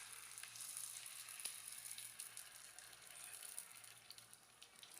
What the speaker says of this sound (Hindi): अब मज़ीद एक टिक्की हम ऐड करेंगे, उसके ऊपर भी हम कुकिंग ऑयल ऐड करेंगे, साथ साथ डालते जाएंगे गरम गरम